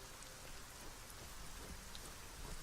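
Steady rain falls on an island in the video game Arcania, a dense continuous hiss of drops with a few brighter patters and no voices.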